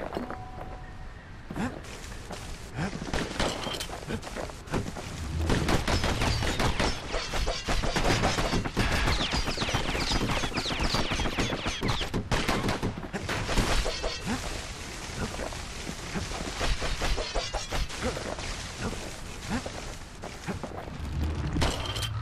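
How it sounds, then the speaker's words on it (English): Dual slinger pistols fire in rapid, overlapping bursts during a Bastion video game fight, set against dense clattering, thuds and crashes of combat along with game music, loud and continuous throughout. "Know what's better than having a slinger pistol in a fight? Two."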